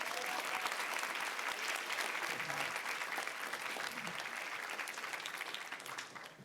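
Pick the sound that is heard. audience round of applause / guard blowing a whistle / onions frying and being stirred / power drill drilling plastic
audience round of applause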